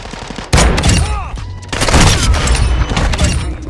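Sniper rifle shots in Modern Warfare 2 online multiplayer, loud sharp blasts with booming tails, one near burst then a second stretch of heavy gunfire and impacts continuing to the end.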